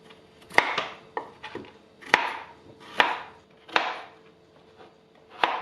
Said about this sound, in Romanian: Și cartofii îi tăiem în cuburi.